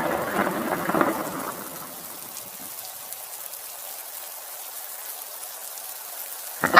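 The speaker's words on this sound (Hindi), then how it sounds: "रास्ते में काले बादल छा गए, बिजली कड़कने लगी और बारिश शुरू हो गई।" Steady rain pours in a cartoon storm scene, with a rumbling swell of thunder at the start that fades into continuous rainfall hiss, and a brief louder burst at the very end.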